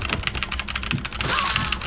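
Rapid typing on a computer keyboard, a steady patter of close key clicks running for about two seconds with no voices.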